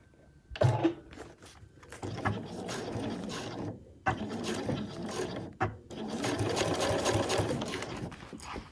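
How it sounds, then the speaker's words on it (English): A sewing machine topstitches a backpack seam with navy blue thread, whirring in several close bursts separated by brief pauses and mechanical clicks. "So I'm just going to stitch along there"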